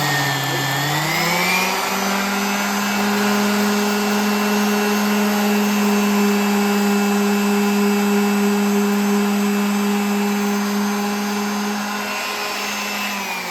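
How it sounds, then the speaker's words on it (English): Orbital sander running at speed setting 5 for rust repair on a Mazda MX-5 NC Mk3 Miata, a steady close whining drone with a brief rise in pitch at startup, continuous and loud with no talking. "The next one, you can use an orbital sander. Whack it to 5."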